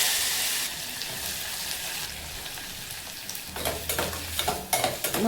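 Onions frying in ghee over a low flame for masala bhat, a steady soft sizzle that grows busier near the end with light scraping and stirring clatter.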